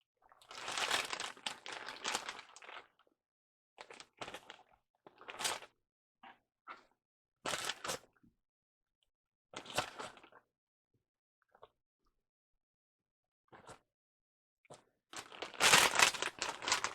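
A plastic bag crinkles in short, irregular bursts as raw meat for beef jerky is put into it, quiet and close with pauses between handlings and no talk.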